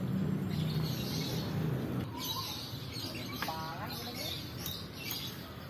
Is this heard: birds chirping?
yes